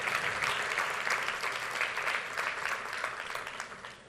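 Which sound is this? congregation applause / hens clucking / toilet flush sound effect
congregation applause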